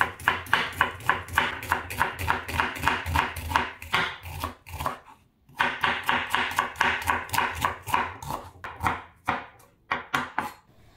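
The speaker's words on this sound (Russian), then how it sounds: "режу лук тонко." A knife chops rapidly on a cutting board in quick, even bursts of crisp taps, pausing briefly midway before resuming, slicing an onion thinly.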